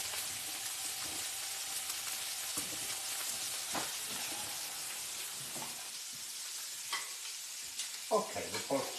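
Pork chops with figs sizzle in a pan as a steady, fairly quiet frying hiss, with a few light clatters and stirring noises toward the end.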